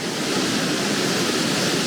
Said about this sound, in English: Beautiful, look at this waterfall right here.